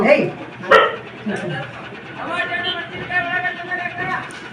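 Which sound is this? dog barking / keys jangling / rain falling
dog barking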